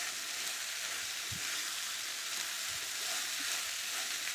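Flattened rice (aval) and softened onions being stirred in a pan on the stove, a soft, steady hiss of frying with a few faint scrapes, low and even throughout.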